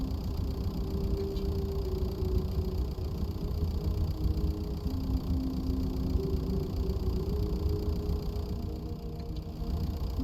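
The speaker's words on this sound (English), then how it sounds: "This is a tractor." A tractor engine idles in the video game The Stanley Parable, a steady low, rumbling drone that holds evenly for the whole stretch with no voices over it.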